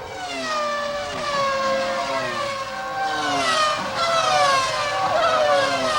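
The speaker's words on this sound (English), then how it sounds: "The welcome sound of Formula One engines." High-pitched 1996 Formula One engines at the Australian Grand Prix in Melbourne whine and rise in pitch, several cars overlapping as they pass close by, loud and continuous.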